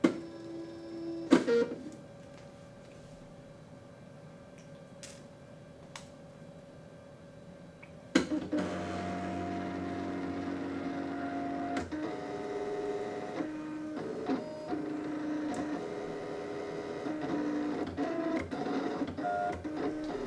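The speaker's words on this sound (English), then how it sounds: "Another difference between this machine and the Expression or Cricut is that it sounds a lot different when it's cutting" An electronic cutting machine whirs and ticks, a motor hum with clicks, then a louder stretch of steady buzzing and mechanical rattling as it cuts.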